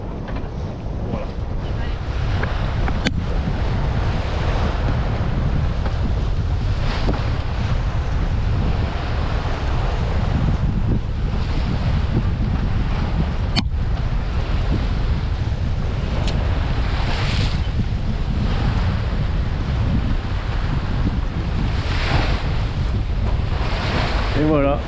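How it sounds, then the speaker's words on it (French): Strong wind roars across the microphone aboard a sailboat at sea on a Mediterranean cruise from Port-de-Bouc to Calvi, with waves and surf washing continuously beneath it, loud and unbroken throughout. "le vent s'est levé"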